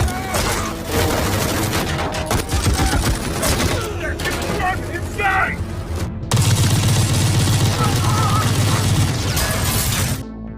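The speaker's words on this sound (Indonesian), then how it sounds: "Sehingga baku tembak sengit kembali memanas." Dense bursts of gunfire and rapid automatic shots in an action film shootout, loud and continuous with crashes and impacts mixed in.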